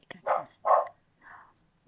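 A dog barks three times in quick succession, the first two sharp and loud, the third softer, with short silent gaps between them in a quiet indoor room.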